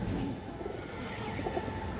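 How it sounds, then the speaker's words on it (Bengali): A female racer pigeon coos close by, low soft repeated calls over a quiet room background. "একটা মাক্সি রেসার মাদি কবুতর আছে, খুবই সুন্দর, একবারে অরিজিনাল রেসার মাদি কবুতর দর্শক।"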